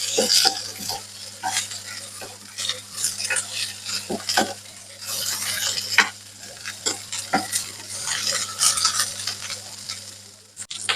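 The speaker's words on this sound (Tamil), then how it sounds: "இந்த பீன்ஸ் வந்து இந்த எண்ணெயில நல்லா வதங்கணும்" Green beans fry in hot oil with a continuous sizzle while a spoon stirs and scrapes them around the pan in frequent close, clattering strokes, with a steady low hum beneath.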